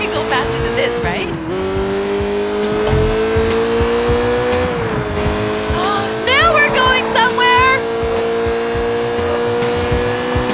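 A car driving fast in Sleeping Dogs, its engine droning steadily with pitch rising and dipping through gear shifts, and tire squeals partway through, loud and close.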